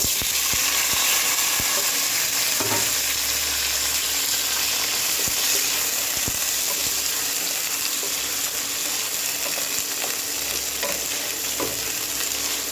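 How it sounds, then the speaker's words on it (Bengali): Four onions, already browned to a reddish colour, frying in a pan and being stirred, with a steady sizzle and occasional scraping of the utensil, continuous and close with no talking. "এবারে পেঁয়াজটা লাল লাল করে ভাজা হয়েছে।"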